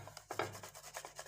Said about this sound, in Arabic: وغادي ناخذوا هاد الفص ديال الثوم غادي نحكوه فيها